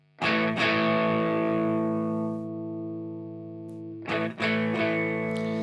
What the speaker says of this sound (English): It does increase the amount of overdrive sound.